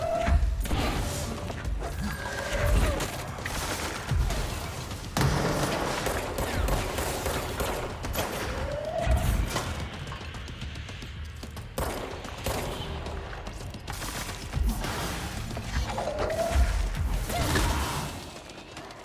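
Grenades thrown and exploding in a shooter video game, amid a dense, chaotic run of repeated sharp blasts and gunfire-like bursts, loud and irregular across the clip.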